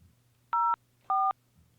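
Telephone keypad tones punch in a number on an automated customer service phone line: two short, clear beeps a half-second apart, alone over a faint low hum.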